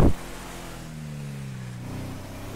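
A car engine in GTA V drones steadily after a short sharp burst at the start, its pitch rising and falling slightly as it revs, moderately close with no talk.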